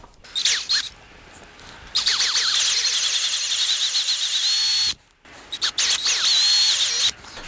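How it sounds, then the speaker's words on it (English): A power drill bores two holes for mounting the bridge on a headless guitar, with a high whining spin-up in two long bursts separated by brief pauses and short squeaky starts, close and loud. "I'm just going to drill these 2 holes."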